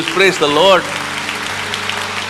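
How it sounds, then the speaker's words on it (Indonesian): Church congregation applauding during a worship service, a broad wash of clapping that follows a brief spoken exclamation and carries on steadily to the end. "berikan tepuk tangan untuk Tuhan Yesus"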